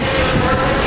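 Glenside local train made up of rail cars 298 and 302 pulls into 30th Street Station, a loud, steady rumble of wheels and motors filling the brief moment with no voices.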